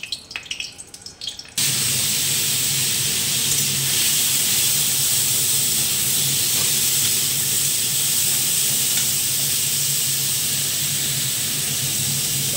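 Green chillies hit hot oil in a wok, and after a brief quieter opening a loud, steady sizzle and hiss bursts in and carries on unbroken.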